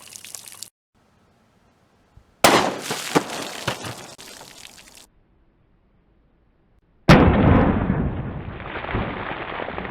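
A Glock 21 pistol loaded with Underwood Xtreme Penetrator ammunition fires outdoors, with two sharp, loud shots some seconds apart, each followed by a brief ringing tail.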